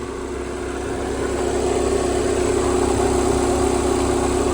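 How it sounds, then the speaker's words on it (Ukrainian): A 2013 Skoda Octavia Scout 2.0 TDI common-rail diesel idles steadily with a low droning hum; as the air conditioning switches on, revs lift and cooling fan whirring rises slightly and holds; close and loud, no talking. "Зараз у нас включилася кліма, тому оберти трішки підвищились і вентилятори працюють"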